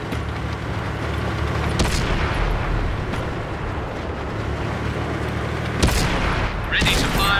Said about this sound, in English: That one drilled straight through.